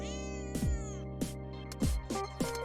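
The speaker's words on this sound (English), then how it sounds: "I felt as though I'd heard a cat meowing in the distance." A cat meows several times in the distance, the calls drawn out and falling in pitch and spaced through the moment over a steady low background hum, with no one talking.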